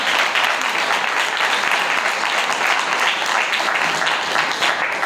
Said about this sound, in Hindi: तालियां बजा सकते हैं यीशु की खुदा की।